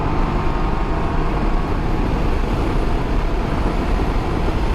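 A 2020 Can-Am Ryker Rally three-wheeler pulls up to highway speed, its engine and wind roar forming a loud, steady, continuous rush close by, with no break or pause.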